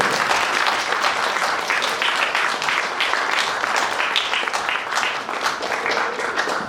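A crowd applauds at a Congolese immigration commemoration in Belgium, thick continuous clapping that stays loud and even from start to finish.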